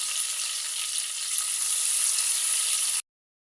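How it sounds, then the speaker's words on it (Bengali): Three bay leaves, three cardamom pods and pieces of cinnamon sizzle in hot oil for a chicken dish, a bright, even frying hiss that continues for about three seconds and then cuts off abruptly. "এই তেলের ভিতরে দিয়ে দিব আমি এটা তেজপাতা তিনটা এলাচ তিনটা দারুচিনি টুকরা"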